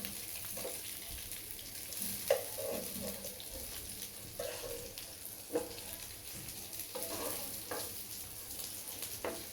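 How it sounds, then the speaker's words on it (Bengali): Hilsa fish frying in hot oil, a steady soft sizzle and crackle held close and fairly quiet throughout, with occasional small pops and clinks rising above it and no talk. "আর আজকের মাছ ভাজিটা হচ্ছে স্পেশাল"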